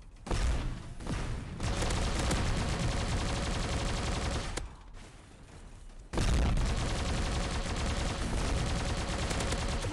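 Sustained rapid gunfire in the robot combat game Bot Machines, dense and loud with continuous bursts, a brief lull near the middle before the shooting resumes at full intensity.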